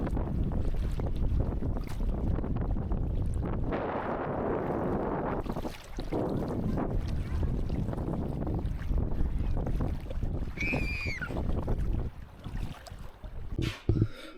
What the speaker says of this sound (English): Whoa, the waves are getting us.